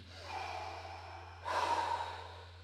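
Heavy, audible breaths come during a core exercise in a workout class, first a long exhale and then a louder, sharper breath, close and alone with a low hum underneath.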